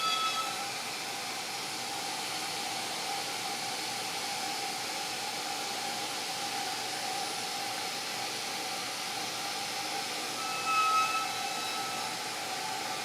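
BenchPilot CNC router cutting drawer box parts at about 33 to 35 inches per minute, a steady, moderately quiet whine and airy rush holding constant throughout, with faint tonal lines over a broad hiss.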